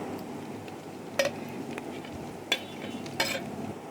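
Onion and garlic stirred into minced meat frying in a pan for keema, with a steady low sizzle broken by three sharp utensil scrapes and clinks against the pan.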